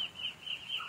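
A high, steady chirping or peeping from chickens on a farm, close and continuous, with no talking.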